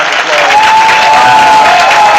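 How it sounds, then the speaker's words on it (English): Steady, dense applause from a crowded room honoring a longtime city council member in Selma, loud and continuous across the whole stretch, with a faint tone running underneath. "let's give him a round of"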